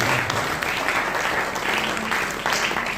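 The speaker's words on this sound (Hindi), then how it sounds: "उनके लिए एक बार जोरदार तालियां बजाते हैं" Dense applause from an audience at a gurukul event, steady broadband clapping filling the whole stretch at close range with little variation, a faint murmur of voices underneath.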